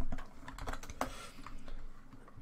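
Rapid computer keyboard typing while entering a Minecraft chat command on a prison server, a quick run of close clicking keystrokes with no talking.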